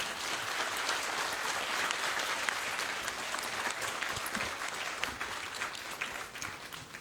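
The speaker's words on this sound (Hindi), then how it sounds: "ये डॉक्टर विश्वरूप के लिए जोरदार तालियां आप बजाइए।" An audience at a talk on a health protocol breaks into loud, sustained applause, a dense continuous patter of many hands clapping that fades slightly toward the end.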